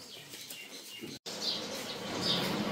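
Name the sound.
pigeons flapping wings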